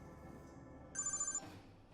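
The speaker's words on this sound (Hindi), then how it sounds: "धनराज को फोन करते हैं।" A telephone rings once, a brief electronic trill rising over a quiet background murmur.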